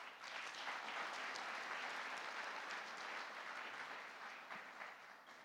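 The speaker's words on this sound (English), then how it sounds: "please let us give our parents, guardians, and family members who have helped us a round of applause" Sustained applause from a graduation audience at the University of Namibia ceremony in Keetmanshoop, honouring parents, guardians and family, a dense even patter of many hands that holds for several seconds and fades slightly at the end.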